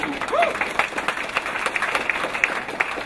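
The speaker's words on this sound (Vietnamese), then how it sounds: "xin quý vị cho một tràng pháo tay thật lớn" A wedding reception crowd claps in sustained applause, dense and lively, with a few cheers mixed in throughout.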